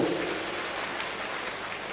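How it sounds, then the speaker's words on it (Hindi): Sustained applause from an audience at a Hindi comic poetry gathering, a dense even patter of many clapping hands filling the whole stretch at steady loudness, with no voices over it. "अब मेरे सम्मान में एक बार ढंग से ताली बजाओ"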